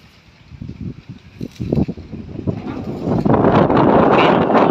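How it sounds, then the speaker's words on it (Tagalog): Strong wind roars and buffets the microphone in uneven gusts, building louder and steadier toward the end. "sobra ang lakas ng hangin dito"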